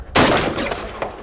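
One loud, sharp gunshot goes off nearby from a firing position behind cover, and its echo rings out briefly into a short tail of reverberation.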